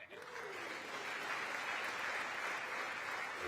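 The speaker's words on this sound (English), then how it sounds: "There were a total of 15 standing ovations, 79 rounds of applause." Members of the US Congress applaud during a Prime Minister's speech, a dense, sustained wash of clapping from a large chamber crowd that holds steady and loud throughout.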